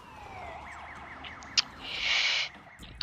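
A wailing ambulance siren from the SimCity video game, its pitch sweeping up and down repeatedly, followed by a brighter, sustained electronic tone and a couple of short clicks, with no talk over it.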